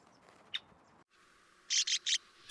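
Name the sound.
male red-winged blackbird calling near its nest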